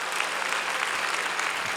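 A church congregation at a Korean Sunday worship service applauds, a dense continuous wash of clapping from a large crowd, even in level and heard from within the hall.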